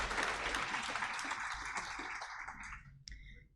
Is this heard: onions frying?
no